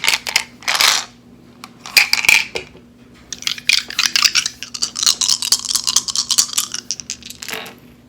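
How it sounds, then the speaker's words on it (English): Dice rattle and clatter across a hard surface for a card reading, a few short bursts of sharp clicking and tumbling in quick succession, close by with no talking. "Okay, some dice."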